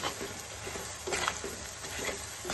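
Chopped tomato stirred into a sizzling curry masala for a Kerala prawn curry, with a steady close frying hiss broken by a few brief scraping stirs of the spoon.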